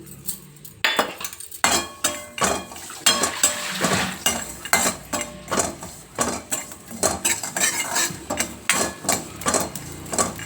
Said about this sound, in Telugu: ఇప్పుడు కాజు కూడా వేసుకొని చాలా ఫ్రై చేసుకోవాలి.